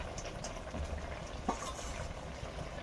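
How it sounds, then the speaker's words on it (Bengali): A curry for a bitter gourd and potato fish dish bubbles in a pan over the fire, a soft, steady simmering hiss with faint pops, close by, with no talking. "কিছুক্ষণ ফুটে গেছে ঝোলটা"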